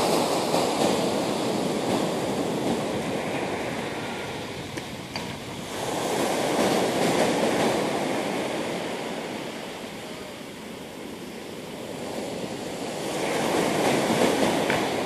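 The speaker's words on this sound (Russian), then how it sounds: "Мне нравится, что я попал в эту часть, где большие волны." Large ocean waves surge and crash in slow swells, with a continuous roaring wash of surf and some wind rumble between breakers.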